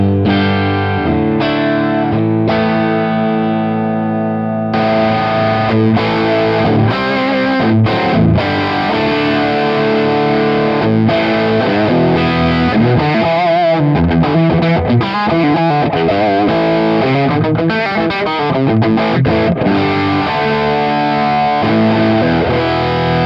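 Electric guitar played direct through an amp emulation pedal on a Bravado amp profile, giving a distorted, saturated tone with sustained chords and busier riffing, loud and steady throughout with no talking.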